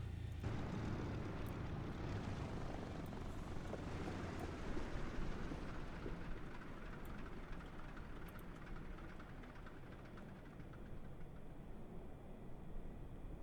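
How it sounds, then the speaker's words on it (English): Two engines of a DC-3 airliner idle in Microsoft Flight Simulator. A steady low droning rumble with a faint airy hiss holds throughout, easing slightly as the clip goes on, with no talk. "Okay, idle engine 2."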